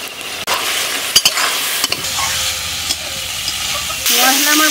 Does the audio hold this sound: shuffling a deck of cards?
no